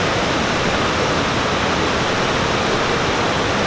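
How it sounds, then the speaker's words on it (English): Waterfall at El Chiflon in Chiapas, Mexico, heard as a loud, steady, unbroken roar of rushing water that fills the whole space with dense broadband noise. "enjoy the sights and the sounds of the water deep into the night"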